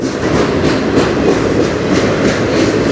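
A CN freight train rolls past on the Strathroy Subdivision, a loud, close, steady roar of wheels with rhythmic clickety-clack over the rail joints and no voices.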